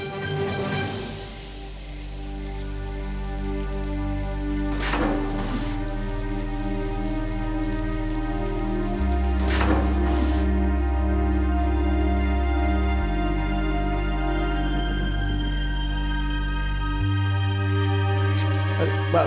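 Steady rain pours down on a rainy day, a dense, loud hiss of drops on surfaces that continues unbroken throughout, with a few sharper splashes standing out and a deep background hum shifting in level.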